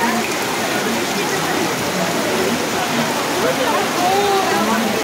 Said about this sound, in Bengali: ও বাবা, কি আরো জোরে নামছে। দেখুন একটা বৃষ্টি